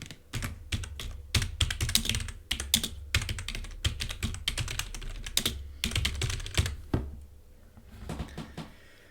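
Rapid, close computer keyboard typing while writing Python code, with a steady run of dense key clicks in bursts and brief pauses and no talking.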